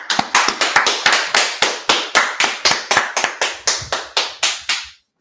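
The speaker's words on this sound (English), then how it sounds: "All right, let's clap it up." A group at an Israelite school street gathering in Washington DC claps in unison, about four sharp, loud claps per second in a steady rhythm, each with a short ring of room echo, ending cleanly after five seconds.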